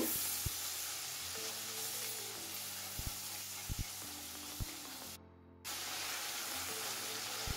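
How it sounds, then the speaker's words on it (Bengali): Spices with salt and a spoonful of chili powder fry and sizzle in a pan for a potato chicken curry, a steady close hiss punctuated by sharp spoon taps against the pan, briefly cutting out near the end, no speech. "তো সমস্ত মশলাগুলোকে আমি ভালো করে একবার কষিয়ে নেব।"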